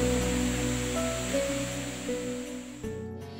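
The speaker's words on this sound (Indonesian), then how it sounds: "Air terjunnya cukup besar, airnya juga banyak, deras." A large waterfall with heavy, rushing water in a natural tourist spot ringed by dense trees and a river, a steady loud roar with no talk that drops abruptly near the end.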